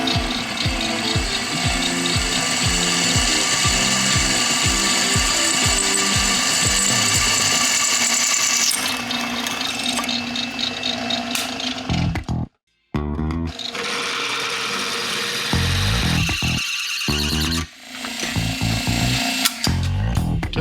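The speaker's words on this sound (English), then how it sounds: "it's wanting to walk, so we'll run a pilot hole." Power drill boring a pilot hole during heat shield work on an LS-swapped Malibu, loud and close, with rapid ratcheting pulses at first, then a steadier whirring grind broken by brief stops and restarts.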